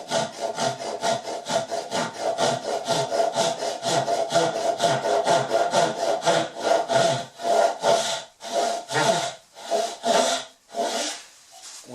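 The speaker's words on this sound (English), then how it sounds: "I'm going to take my tenon saw, actually my dovetail saw, and saw right up close to the line." A dovetail saw cuts wood close to a marked line for a cabinet face frame, making loud, close, rhythmic back-and-forth rasping strokes. The strokes are quick and even at first, then slow into distinct separated pulls.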